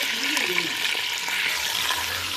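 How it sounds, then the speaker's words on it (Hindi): Chicken frying in ghee in a pot on an outdoor stove makes a steady, loud, crackling sizzle, with faint stirring knocks running through it. "चिकन को मैं पतीली में ऐड करूँगी और इसको पहले फ्राई करूँगी"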